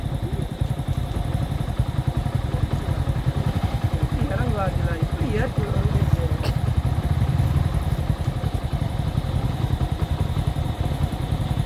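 Passing motor vehicles and motorcycles on a road, a continuous rumbling engine drone under people talking in Tamil.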